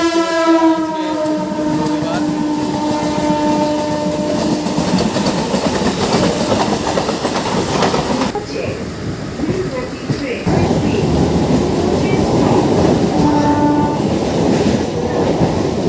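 A nearly empty Dankuni–Sealdah local passenger train runs with a loud, steady rumble and rattle from the carriages, long horn blasts sounding at the start and again near the end, and people talking over the noise.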